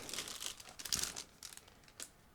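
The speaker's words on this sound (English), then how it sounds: "This one was packed into a separate plastic bag, so again I'm going to open it carefully" Soft plastic crinkling and rustling in irregular bursts, close by and fairly quiet, like a thin bag being handled and pulled open.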